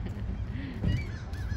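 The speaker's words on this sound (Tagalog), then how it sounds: "Ang daming ibon sa langit." Geese honking overhead outdoors, a few rising calls scattered over a short stretch against steady low background noise, moderately loud.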